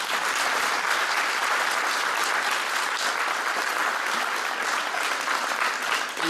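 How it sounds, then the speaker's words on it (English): Sustained audience applause at a fifth grade spring concert, honoring the fourth grade recorder players; dense, steady clapping fills the room without break. "One more round of applause for our fourth grade recorders."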